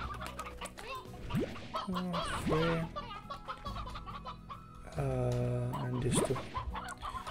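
Hens clucking in the farming game Slime Rancher, a few close cackling calls bursting out repeatedly, with a person talking briefly over them.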